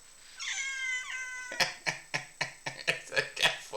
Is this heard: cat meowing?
yes